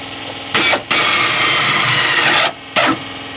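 A power drill whirs loudly and steadily, stopping briefly twice with short pauses between bursts, close and harsh, while mounting an aftermarket speaker in a 2007-2013 GM truck.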